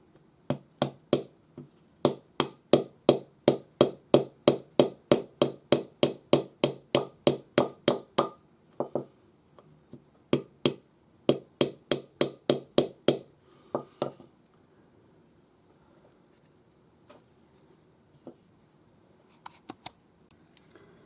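A rawhide hammer strikes a metal ring held on wood, giving long, steady runs of sharp, evenly spaced taps at close range. Shorter bursts follow, then a few scattered knocks near the end.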